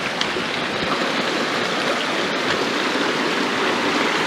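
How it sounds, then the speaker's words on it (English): Mountain stream rushing over rocks on a snowy, mossy backcountry trail, a loud, steady broadband wash of flowing water that fills the clip without a break, close by, with no voices. "Nice thing is the water is flowing good."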